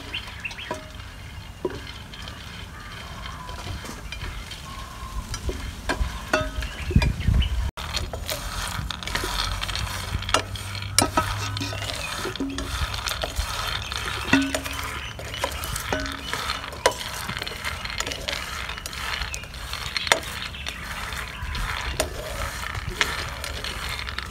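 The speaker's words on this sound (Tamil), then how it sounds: "அப்படியே கச்சான் எல்லாம் நல்ல பொன்னிறமாக வர வரைக்கும் நாங்கள் வடிவாக வறுக்கோம்." Peanuts and cardamom dry-roasted and stirred in a pan until golden for Jaffna-style pineapple payasam, with steady scraping, clinking and rattling of nuts against metal and a faint sizzle throughout, no voices.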